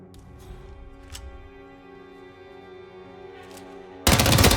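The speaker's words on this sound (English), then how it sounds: "That was a gunshot." Gunfire in the stealth-action video game Hitman Absolution: faint, scattered distant shots over a steady low game hum, then a sudden loud burst of rapid firing at the very end.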